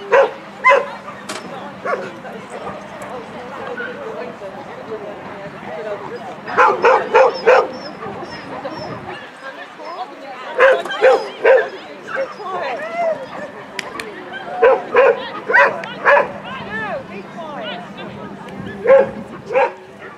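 A nervous dog barks and whimpers in repeated bursts of yips and barks, fairly close, with quieter stretches between and people talking in the background.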